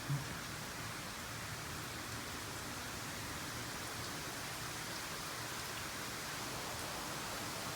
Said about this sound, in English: This is what I would call just a nice, good soaking rain.